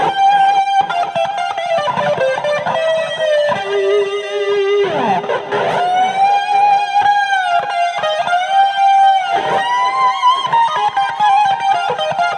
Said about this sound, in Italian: ovviamente viene utilizzato il Dickey Amp e suona così.